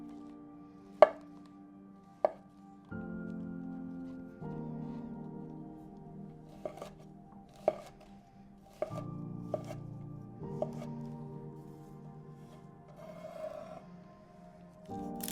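A knife slices porcini mushrooms thinly on a cutting board, giving sharp isolated taps spaced a second or two apart against a quiet background with a faint tonal hum.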